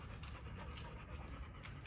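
A tired dog pants steadily at close range, quick rhythmic breaths repeating through the whole stretch with no talking over it.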